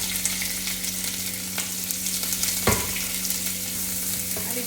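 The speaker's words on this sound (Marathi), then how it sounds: "ते घालूयात आपण मिरची आणि स्लाइस कांदा." Green chilli and sliced onion fry in oil, a steady soft sizzle with occasional stirring clinks and scrapes from the pan.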